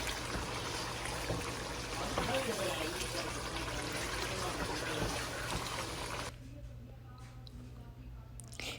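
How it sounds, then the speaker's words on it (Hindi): Two cups of water pour steadily into a pot of beef kofta curry with a continuous splashing rush, then stop abruptly, leaving a quieter room with a few faint clicks. "अब 2 कप पानी डाल रही हूँ मैं इसमें"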